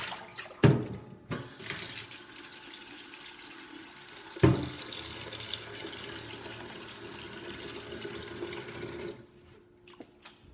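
Water runs steadily from a tap into the tank of a De'Longhi Magnifica XS espresso machine with a no-water-output fault, a broad hiss with a couple of sharp clunks, then it stops.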